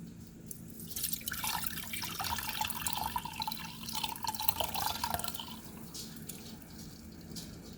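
Elderberry syrup poured through a strainer into a bowl, a steady trickling and dripping of liquid that swells for several seconds and then thins out.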